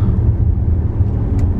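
A car engine in sport mode roars with a loud, steady low rumble throughout, heard from inside the car.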